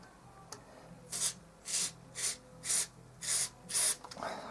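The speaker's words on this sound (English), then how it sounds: "I'm going to spray the record playback switch and the mode selector now." Aerosol spray cleaner squirted onto the record/playback switch and mode selector of a Hitachi TRK 1255ER radio cassette player: six short, loud hissing bursts in a steady rhythm, close up, with no talk.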